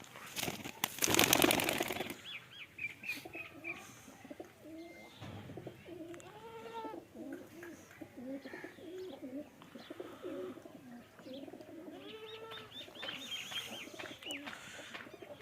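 Rooftop flying pigeons coo repeatedly at moderate distance in a steady stream of soft bubbling calls, with a brief loud rattling burst near the start and faint background noise throughout.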